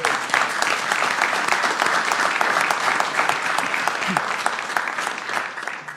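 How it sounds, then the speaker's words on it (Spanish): Loud, enthusiastic audience applause for Aruba's prime minister at a public address, with many hands clapping in a close, sustained roar that holds steady throughout. "Vamos dar a minister aqui tremendo aplauso"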